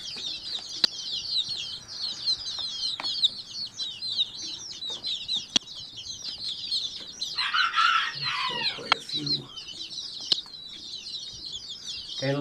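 Young chicks of many breeds and colors cheep and cluck steadily near a bee feeder, a dense chorus of high chirps with occasional wing flaps and a brief louder outburst partway through.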